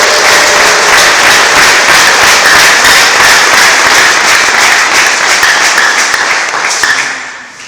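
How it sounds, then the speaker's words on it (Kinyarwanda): Loud, sustained applause from a church congregation during a worship service, dense clapping filling the space evenly for several seconds before tapering off at the end. "Duhe Imana amashyi menshi cyane."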